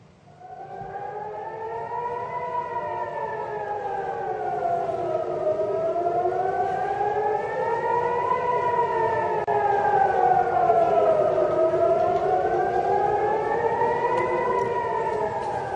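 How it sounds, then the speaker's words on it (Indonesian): Air raid warning siren at Ben Gurion Airport in Israel during a missile attack, a loud steady wailing tone rising and falling slowly in long sweeps, continuous and alone. "Sirene peringatan bahaya berbunyi saudara di Bandara Ben Gurion, Israel saat ada serangan rudal dari Lebanon"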